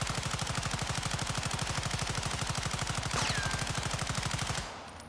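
Sustained full-auto bursts from an M13C assault rifle in the Warzone 2 firing range, a rapid, even stream of loud close shots running for about four and a half seconds before cutting off into a brief decaying tail.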